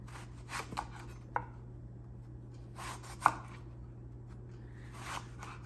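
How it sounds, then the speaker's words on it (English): A knife cuts eggplant into wedges on a board, a few sparse quiet chops and taps against a low steady hum, no talk. "we're just gonna start like cutting into wedges like that"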